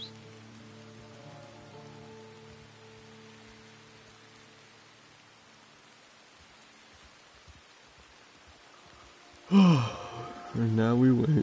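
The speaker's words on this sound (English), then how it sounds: "Raining outside." Steady rain falls on surfaces in an outdoor video game world, a soft continuous hiss at moderate level with low tonal game music early on, then a voice speaks loudly near the end.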